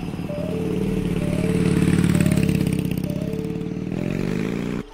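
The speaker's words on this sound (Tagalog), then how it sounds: "Biglang may motor na sumipat palayo." A motorcycle engine drones steadily nearby for several seconds, swelling slightly in the middle and holding a constant mid-pitched hum before cutting off abruptly.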